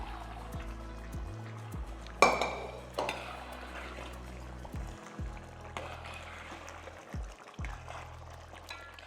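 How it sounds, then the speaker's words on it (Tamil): Mutton cooking water is poured into a biryani pot, with a soft liquid wash broken by several sharp clanks and scrapes of metal utensils against the pot, close and fairly quiet. "இந்த தண்ணியோடையே ஊற்றிடலாம்"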